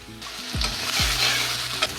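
Chopped onion dropped into hot mustard oil, bursting into a loud, close sizzle that holds steady, with a couple of low thumps and a brief stirring scrape, and no voices.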